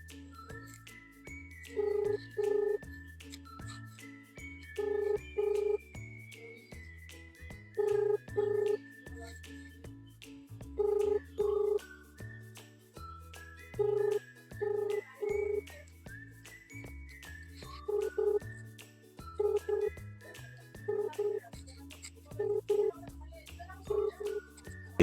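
An outgoing phone call rings through the earpiece, with paired ringback tones repeating about every three seconds, fairly quiet, over a faint continuous background.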